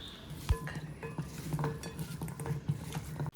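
Jackfruit seeds are mixed by hand with masala spices and coconut oil in a dish, making soft close-up clinks, taps and squelchy stirring with one sharper knock near the start and no talking.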